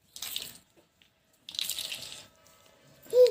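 Drinking water pours into a vessel in two separate bursts of splashing flow with a quiet gap between, followed by a short hollow clunk at the end.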